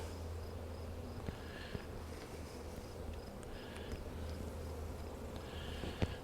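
Honey bees hum at an opened hive during a brood inspection, a steady low droning buzz that stays even and close throughout, with a few faint clicks and knocks.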